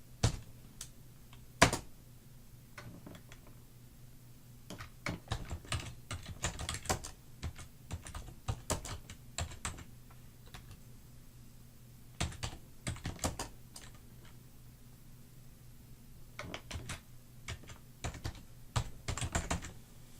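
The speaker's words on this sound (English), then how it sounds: "now we would type in here and add more description" Typing on a computer keyboard, bursts of quick close key clicks separated by quiet pauses, with no talk.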